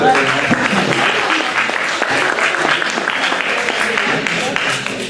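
An audience at a French conference on serious games breaks into sustained applause, a steady dense patter of many hands lasting throughout at a fairly loud, even level.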